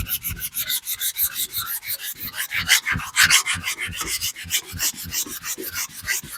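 400 grit wet/dry sandpaper wet sanding a surface before basecoat, a loud, close, rhythmic back-and-forth rasp of quick even strokes that continues throughout with no one talking.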